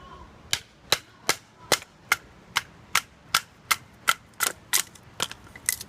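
A six-inch medium EDC knife from Weatherford is batoned through kindling wood, producing about a dozen sharp, loud knocks at a steady, even pace, close by and with no talking.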